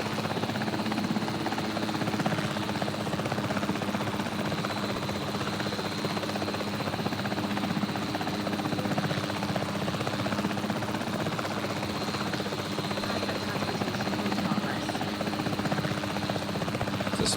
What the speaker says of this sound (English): I forgot that you could actually take control of the helicopters in this.